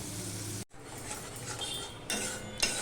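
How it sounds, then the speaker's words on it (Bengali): Spice paste sautéing with a splash of water in a pan for kochu shak, a continuous close hiss of cooking broken by a brief pause and light metal clinks of a spoon stirring. "জল দিয়ে আমি মশলাটাকে একটুখানি কষিয়ে নেবো"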